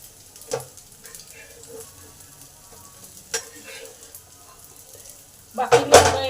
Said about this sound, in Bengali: বাকিগুলো ভেজে নেব। এগুলো আস্তে করে উল্টাতে হবে।